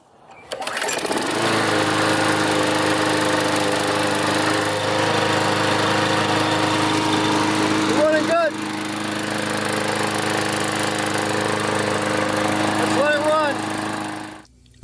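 An older MTD walk-behind lawn mower engine, repaired after a bad flywheel key, starts up and runs at a steady loud, close drone, with brief throttle dips midway, then shuts off at the end.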